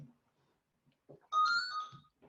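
A phone ringtone chimes once in a sustained electronic burst, fairly close and clear, with brief bits of talk just before and after it.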